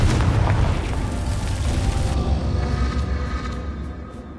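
In Hogwarts Legacy, a Confringo fire spell detonates with a loud, deep boom that rumbles and slowly fades over about four seconds.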